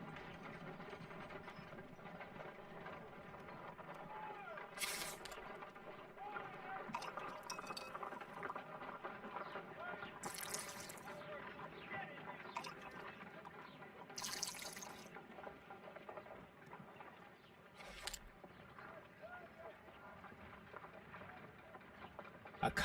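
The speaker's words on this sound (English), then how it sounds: "Let us pour liquid from the bottle into a test tube to perform an analysis" Liquid poured from a bottle into a glass test tube in the Sherlock Holmes: Crimes and Punishments video game, a quiet continuous trickle with occasional glassy clinks, fairly faint throughout.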